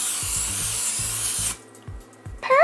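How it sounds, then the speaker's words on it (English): A steady aerosol spray of baking spray onto a baking pan hisses for about a second and a half, then cuts off, leaving quiet knocks and a faint rustle. "let's spray the baking pan with baking spray."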